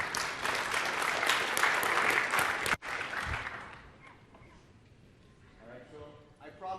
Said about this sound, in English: Folks, give a hand clap for David Elfassi.